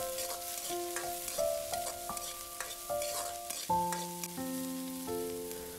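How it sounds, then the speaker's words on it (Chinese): Green and red chili peppers stir-fried in a hot wok with scallion, ginger and garlic, a steady sizzle under repeated scraping and clanking of the spatula against the metal, close and continuous with no talking. "继续翻炒一会儿，把青红线椒炒至断生"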